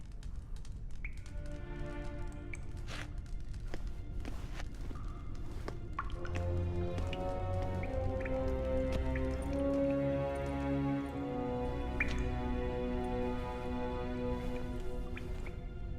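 Rain drips and patters in The Witcher 3: Wild Hunt, a steady scatter of close taps and droplets heard throughout under soft musical tones, with no speech.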